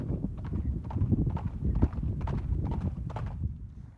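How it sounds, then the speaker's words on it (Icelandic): Horses' hooves clip-clop at a walking pace as riders set off for home, with a brief whinny. The steps are close and moderately loud on the ground, with no talk. "náum í hestana"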